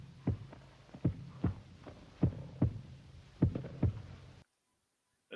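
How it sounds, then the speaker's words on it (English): A heartbeat sound effect from the horror film Tombs of the Blind Dead thumps in close paired beats, lub-dub, about three or four times in a slow steady rhythm, deep and muffled, before stopping abruptly into silence. "how Osorio is like zooming in with the heartbeat"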